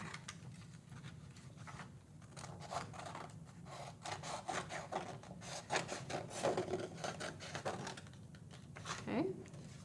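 Scissors snip through paper while a woven paper placemat is cut into loose strips, a steady close rasping and rustling run of cuts with speech-like vocal sounds mixed in.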